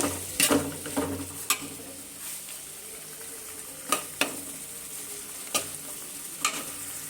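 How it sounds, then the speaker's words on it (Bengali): Tomatoes frying in a spiced curry masala, stirred in a pan before cauliflower goes in: a continuous low sizzle broken by several sharp utensil knocks and scrapes against the pan, close and clear, without any talking. "এই জন্য আগে টমেটোগুলো দিয়ে নিব। টমেটোটা হালকা করে কষিয়ে নিয়ে এরপরে আমি ফুলকপিটা দিয়ে নিব।"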